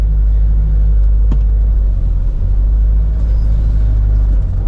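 A 55-year-old 40-horsepower car driving along, a loud steady low engine drone and road rumble from inside the cabin, with a brief click partway through and no talk.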